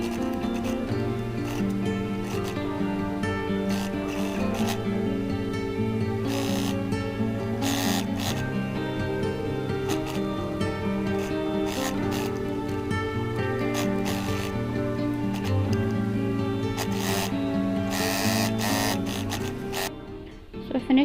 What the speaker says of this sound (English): we'll be stitching all around.